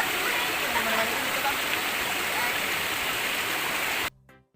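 The Tri Kontra waterfall at Pauh Tinggi thunders as a loud, continuous broadband roar of falling water for about four seconds, then stops abruptly.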